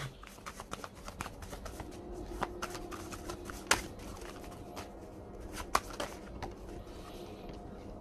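A deck of Pink Floyd tarot cards is shuffled quietly, with a continuous patter of soft papery riffles and clicks broken by two sharper snaps of the cards.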